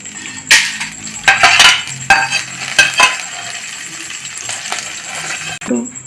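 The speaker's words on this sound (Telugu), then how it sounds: "మినప్పప్పు ఒక ప్లేట్లో వేసుకోవాలి" Urad dal poured onto a plate, the hard grains landing in several loud, clattering bursts with brief pauses between them, close and without talk.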